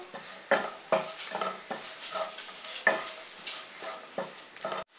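Onions fry in a pan for a bread omelette and are stirred with a utensil, giving rhythmic scraping strokes about twice a second over a soft, continuous sizzle, close and moderately loud.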